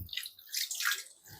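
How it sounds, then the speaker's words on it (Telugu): Tamarind water poured over raw fish pieces for a fish fry, a short light splashing and trickling pour, close and soft, with no voices. "ఆ వాటర్ కొన్ని వేస్తున్నా"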